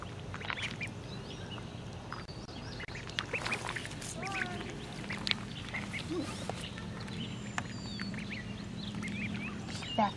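Ducks call from open water outdoors, with scattered quacks and bird chirps over steady low ambient rumble, moderately near, no talking.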